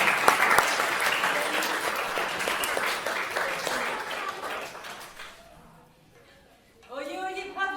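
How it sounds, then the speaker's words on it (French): An audience at a summer musical and artistic show applauds loudly, the clapping thinning and fading over several seconds before a voice begins speaking near the end. "On peut peut-être les applaudir pour les encourager."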